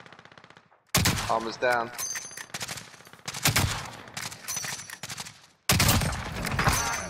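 Rapid automatic gunfire in a shooter video game, bursts of shots cracking close and loud in several sharp volleys, with a voice speaking briefly between them.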